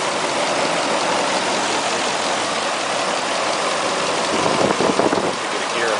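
Truck engine running at idle: a steady, continuous rumble with broad noisy hiss, constant in level, heard close up with no voices.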